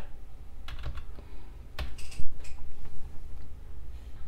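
Someone types on a computer keyboard at a Windows 10 PC, producing close, irregular bursts of clicking keystrokes with short pauses between them.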